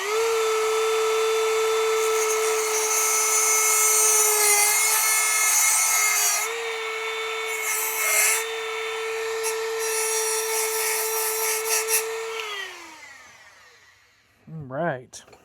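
A Dremel rotary tool grinding a throttle lever part runs as a loud, steady high whine for about twelve seconds with slight dips. It then spins down and stops, and a few faint handling sounds follow.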